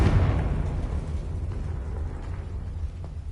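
A Confringo spell blast in Hogwarts Legacy: a single loud explosive burst at the start that decays into a rumbling, fading tail over a few seconds.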